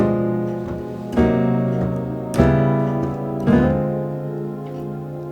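Keyboard sounding half-diminished drop 2 voiced chords in a gospel arrangement, three sustained chords struck about a second apart, each ringing and fading before the next, close and moderately loud with no voices.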